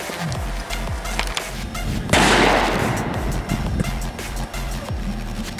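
A firecracker goes off in a sudden loud burst during an outdoor firecracker test, the blast cutting through a constant rumbling background before the noise settles again.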